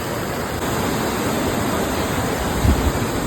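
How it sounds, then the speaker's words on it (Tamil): Water of the Seetha Koli river rushes past nearby in a loud, steady, unbroken roar, with no voices. "தண்ணி பாயுது."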